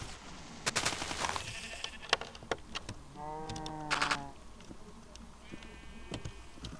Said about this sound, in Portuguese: Vou matar essas ovelhas.